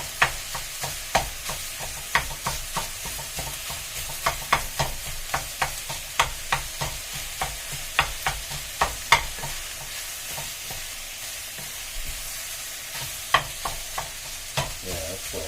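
Chorizo and onions fry in a pan with a steady crackling sizzle, broken by frequent sharp scrapes and taps of a utensil stirring, close and without talk.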